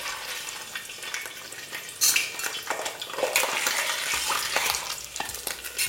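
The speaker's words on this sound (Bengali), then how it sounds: "তেলটা যখনই গরম হয়ে যাবে তখন এখানে আপনাদের ফোড়নের মধ্যে দিয়ে দিতে হবে 5টা এলাচ" Whole cardamom pods and a piece of mutton fat drop into hot mustard oil, setting off a bright sizzle with stirring and the clink of a utensil against the pan, up close and with no voices.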